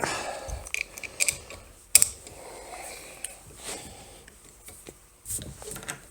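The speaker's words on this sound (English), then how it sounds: "So, get your adjustable wrench nice and tight." An adjustable wrench working on the tensioner nuts of a Grizzly G0555 band saw, heard as close, intermittent metallic clicks, ratcheting knocks and scrapes with short pauses between turns.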